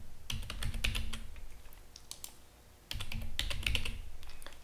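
Password being typed on a computer keyboard: two bursts of quick, crisp key clicks separated by a short pause, close and clear with no speech.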